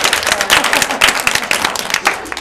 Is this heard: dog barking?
no